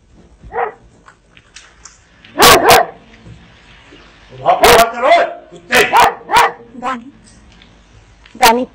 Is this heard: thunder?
no